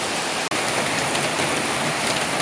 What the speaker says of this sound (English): Lots of water pouring down suddenly.